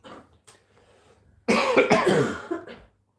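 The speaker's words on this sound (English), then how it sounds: "Pardon the coughing, everyone." Someone coughs once softly, then after a pause lets out a harsh, loud fit of several close coughs, with no talking.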